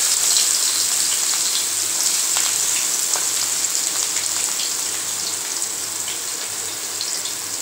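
Three chopped medium onions and two green chillies fry in oil in a kadai, giving a steady, close, crackling sizzle that holds evenly throughout with no voices.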